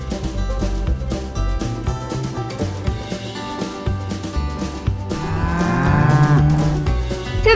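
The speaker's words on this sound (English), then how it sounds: "The Brahman Cow." A Brahman cow gives several long, loud, low moos, with pitch that wavers and rises toward the end, heard close and alone.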